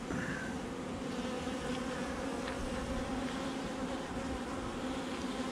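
A honeybee colony in an open hive hums with a dense, continuous buzz close by, steady and unbroken with no talking.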